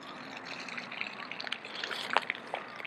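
Water tipped out of the neck of a Scrubba laundry wash bag, a soft continuous trickle and dribble of liquid with small splashy spikes, close and fairly quiet with no talking.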